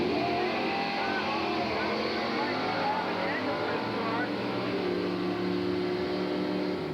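A drag racing car revs at the starting line while staging at the 1983 Englishtown Springnationals drag strip: a loud, steady engine roar fills the whole stretch, with a commentator's voice running over it.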